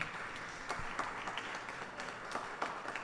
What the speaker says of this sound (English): I invite you now to welcome to the podium with a lusty round of applause